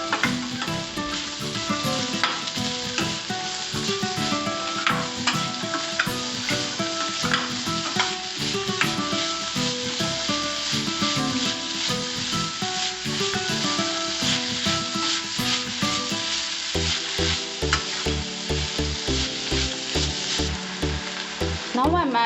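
Kalakai (karonda) rice mixture sizzling steadily in a pan while a spoon stirs and scrapes through it, close and continuous, with a lower rattling rumble near the end and no talking.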